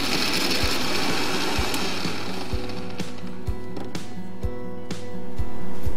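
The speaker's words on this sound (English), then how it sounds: "Ginger, let's grind this. Not a very smooth paste, a little chunky." An electric grinder coarsely grinds ginger and garlic into a chunky paste, a whirring motor broken by repeated sharp knocks and thumps as the pieces hit the jar, then rising louder near the end.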